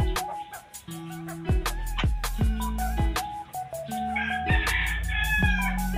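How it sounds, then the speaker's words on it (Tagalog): Roosters on a small backyard farm crow several times in a row, loud and close, each call a strained rising-then-falling cry. Faint clucking and other bird sounds fill the gaps. "Mga tandang."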